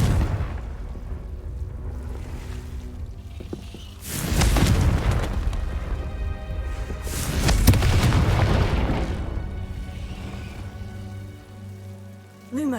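A Confringo spell cast in a Harry Potter video game sets off two broad, rumbling blasts a few seconds apart, loud over a steady hissing, rain-like ambience, with no voices.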